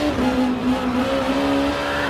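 A race car engine in GT Sport drones at steady high revs with a continuous whining tone, easing slightly in pitch as the car is nursed through a corner in second gear, loud and close with no talk.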